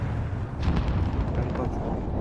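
A precision strike explosion in Call of Duty Modern Warfare rumbles as a dense, loud, sustained boom with crackling debris, under excited talk from players.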